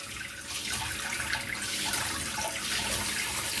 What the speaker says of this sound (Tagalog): So, hugasan ko muna tong ating munggo.